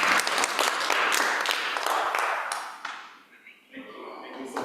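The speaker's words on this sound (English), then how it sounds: "Another round of applause." Audience applause at an international conference session fills the room with brisk clapping, then thins out and fades, with voices talking over the tail end.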